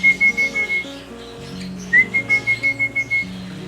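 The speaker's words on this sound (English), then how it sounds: "whenever I feed them, I make a whistle so that they will know that it's feeding time." A person whistles a quick series of short, bright notes in two bursts, a call used to signal feeding time to cockatiels, heard close and clear over soft background sound.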